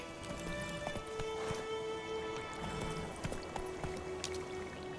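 Roach the horse gallops in The Witcher 3, with a steady clip-clop of hooves running continuously beneath ambient game sounds and music for the whole stretch.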